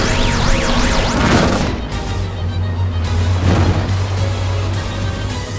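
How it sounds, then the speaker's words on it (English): Neighbors' construction work rumbling in the background, a low steady drone with intermittent thuds and bangs running continuously at moderate level beneath electronic game music. "Wow, someone is actually doing construction at this hour."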